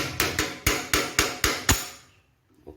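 Six sharp metallic hammer taps on an angle grinder part during repair, struck close up in an even rhythm about a quarter second apart, each ringing briefly before the last fades into quiet.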